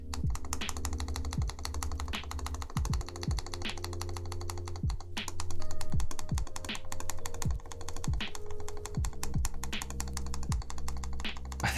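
Rapid clacky typing on a prototype mechanical keyboard fitted with Holy Panda switches and GMK keycaps, close and continuous, with deeper thocks from the spacebar or larger keys mixed into the stream of keystrokes.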